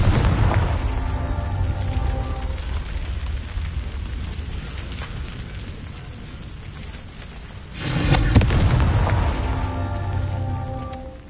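A Confringo blasting spell explosion from a wizard game, a deep booming rumble fading early, then a loud burst with crackling debris near eight seconds that slowly dies away.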